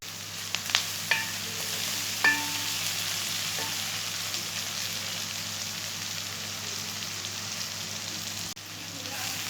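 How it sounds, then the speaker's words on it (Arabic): Onions and carrots fry in a pan for Alexandrian koshari while being stirred, a steady close sizzle and hiss with occasional spoon scrapes and clicks against the pan, no talking. "نقلب مع بعض."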